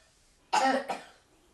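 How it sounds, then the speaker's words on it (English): A single cough, close and fairly loud, a harsh burst with a short second push, set against quiet surroundings. "Mention colds and someone's got a cough."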